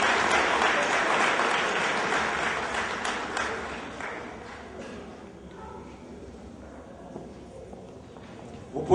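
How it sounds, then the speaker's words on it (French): Applause from a gala charity dinner audience for an ambassador, dense clapping loud at first and thinning toward the end, with voices mixed in. "Applaudissons s'il vous plaît, son Excellence."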